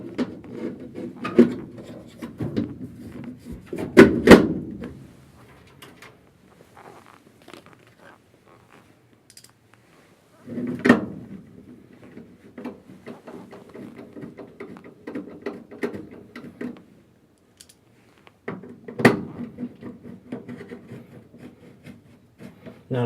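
Metal access panels going back onto a furnace during flame sensor and filter service, heard as intermittent rubbing, scraping and knocking in separate bursts with quiet gaps between them.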